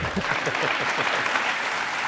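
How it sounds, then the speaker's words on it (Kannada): A studio audience at a Kannada TV courtroom-style talk show bursts into continuous, dense applause, close and loud for about two seconds with no pauses. "ಅವರಿಗೂ ಹಾಗೆ ಅನ್ಸಿದ್ರೆ ಚಪ್ಪಾಳೆ ಹೊಡಿತಾರೆ."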